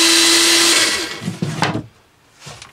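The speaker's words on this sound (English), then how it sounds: "So I made a little pillar drill here, and hopefully it's still plugged in." A small homemade pillar drill whines loudly at a steady pitch, then winds down and cuts off, followed by a few clunks and a brief second burst of motor noise.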